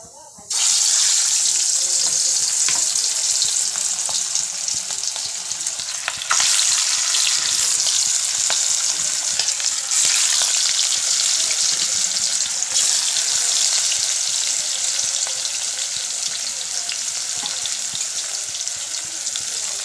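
A fish curry with potato, flat beans and tomato sizzles and bubbles steadily in a pan, a loud continuous frying hiss that runs without a break and without voices.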